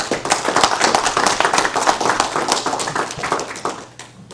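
Audience at a village board meeting in Hartland applauding, a dense burst of many hands clapping close by for about four seconds before tapering off.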